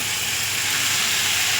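Chopped banana flower goes into a pan of frying spice paste with potatoes and prawns and sets off a loud, steady, hissing sizzle close by with no voices.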